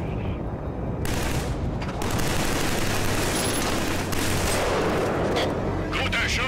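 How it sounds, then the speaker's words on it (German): Rapid, loud gunfire in the shooter game Killzone 3, a dense, continuous barrage of shots and blasts with booming low rumble filling the whole stretch. "Was für ein Schuss."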